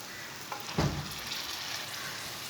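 Long capsicum strips drop into keema frying in a pan for a dhaba-style dish, giving a short burst of sizzle over a steady, fairly quiet background hiss.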